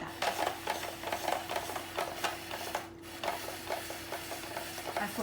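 A cucumber spiralizer machine cuts fresh cucumber into noodles, making repeated rhythmic clicks and soft grinding, cranking close by under a steady background hum with a brief pause.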